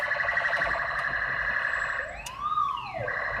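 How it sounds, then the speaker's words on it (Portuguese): An ambulance siren passes through city traffic, heard from inside a ride-share car. A wailing, rising and falling tone repeats over steady road rumble, and one loud swell arcs up and down as the vehicle goes by. "Deixa eu abrir pra ambulância aqui, né?"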